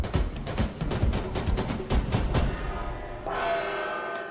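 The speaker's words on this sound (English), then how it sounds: "Kwabena and Alice were the last to gong" On a game show, a contestant strikes a gong once after a stretch of busy clattering and tapping, leaving a single sustained metallic ring that hangs to the end.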